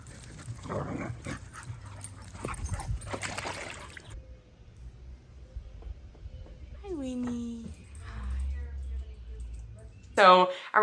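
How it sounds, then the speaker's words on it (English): Dogs play in a kiddie pool, with splashing water and a few short whimpers and yelps, under stretches of talk. "The dogs played in a kiddie pool today."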